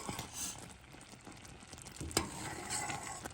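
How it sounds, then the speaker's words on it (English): Chocolate oatmeal cookie mixture bubbling in a pot on a stove over medium-low heat, with soft popping and stirring scrapes throughout. "I just want to keep it boiling"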